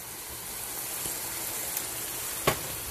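Food sautéing in a pan with black pepper added gives a faint, steady sizzle and hiss, with a couple of soft clicks from stirring.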